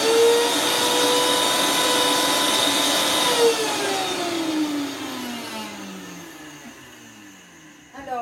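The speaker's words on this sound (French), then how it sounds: "Donc ici, on va aller commencer à mixer." Countertop blender mixing ingredients for dehydrated corn taco shells: a loud, steady motor whine that slowly drops in pitch as the load changes, then winds down toward the end.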